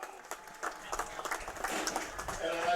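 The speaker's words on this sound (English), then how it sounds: "a nice round of applause" Crowd applause at a varsity high school football game, Milford at THS, heard as scattered clapping that builds steadily, with an announcer's voice talking over it.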